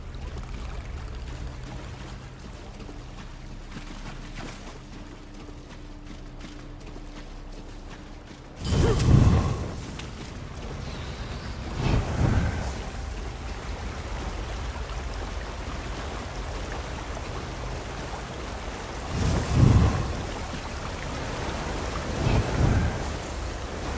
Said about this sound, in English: a door hidden behind a waterfall